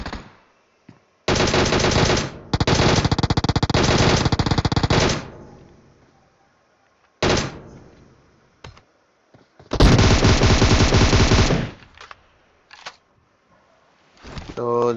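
Automatic gunfire in PUBG Mobile, several loud rapid bursts of shots a few seconds long separated by quiet gaps, with faint talk between them.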